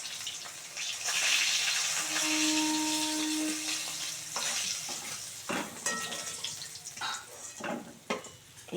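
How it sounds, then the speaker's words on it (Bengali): Fish frying in a pan, a steady close sizzle with scraping and stirring clatter from a utensil, a brief tonal hum in the middle and sharp clinks toward the end. "আর বাদ বাকি মাছগুলো ভেজে নেব।"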